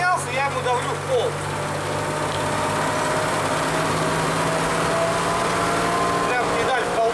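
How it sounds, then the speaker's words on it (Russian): A Mercedes 208 van with an OM603 diesel engine accelerates with the pedal floored, producing a steady, droning engine note heard from inside the cab, with someone speaking over it. "Прям педаль в полу. Тогда у него начинается какой-то разгон."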